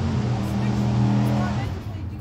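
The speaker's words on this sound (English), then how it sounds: "Guess that guy's working on his car too." A neighbour's car engine runs steadily nearby while he works on it, a continuous low drone with harmonic hum that eases off toward the end, with faint background voices.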